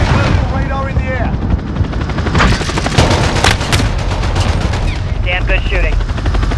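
Air support opening fire in Modern Warfare 2019: loud rapid bursts of heavy gunfire with a helicopter-like drone and booming impacts, with radio-style voices over parts of it.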